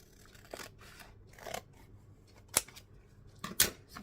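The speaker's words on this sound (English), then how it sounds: "I suppose I can cut off the bottom bit" Scissors snip paper for a collage in a few sharp, close cuts spread across a few seconds, with quieter handling sounds between them and no talking.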